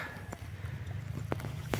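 A mare's faint hooves clip-clop in a slow, uneven rhythm over low background noise in Chorni Oslavy, a few sharper knocks standing out.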